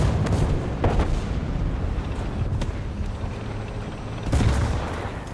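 An enemy tank round hits a T-80UD main battle tank in War Thunder. Sharp impact bangs land near the start, then twice more near the middle and once late, over constant rumbling engine and wind-like noise. No voices.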